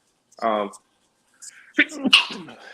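A single sharp sneeze rings out up close, followed after a pause by a person speaking briefly.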